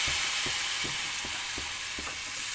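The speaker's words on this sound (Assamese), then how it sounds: "ইয়াত এতিয়া মই পানী দিম।" Water splashes into a hot pan of cooking greens and silver pomfret fish (lai and palang leaves with rupchanda), giving a steady loud sizzle with regular scraping stir strokes close by.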